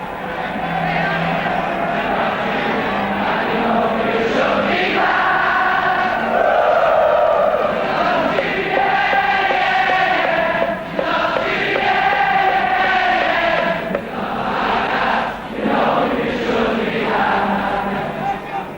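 A large football crowd sings together on the Kop at Anfield, Liverpool, a massed chorus of voices swelling and echoing continuously, loud and dense throughout.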